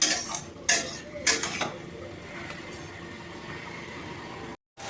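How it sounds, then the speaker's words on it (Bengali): A spoon stirs boiled pumpkin, eggplant, pointed gourd and ivy gourd in a metal pot, with three clear clinks against the rim early on, then a soft, steady background. "এবার আমি ভালোভাবে নাড়িয়ে নেব।"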